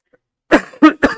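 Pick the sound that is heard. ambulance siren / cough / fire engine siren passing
cough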